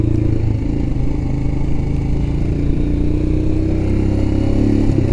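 Motorcycle engine droning steadily on Iowa back roads, close and loud with a constant low rumble and wind roar throughout, no talk.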